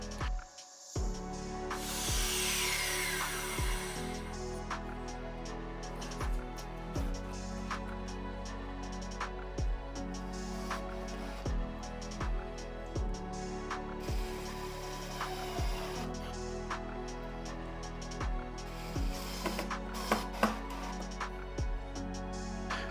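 A small rotary tool mounted on a homemade saw lever cuts model railway track, its motor whining steadily throughout with sharp repeated clicks and brief bursts of grinding as the blade meets the rail, close and alone.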